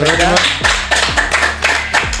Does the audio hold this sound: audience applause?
yes